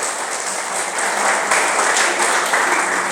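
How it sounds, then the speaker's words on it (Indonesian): A church congregation claps together after a sermon on the ascension, a steady, fairly loud wash of applause that swells slightly midway and carries on without voices. "Tepuk tangan dulu dong"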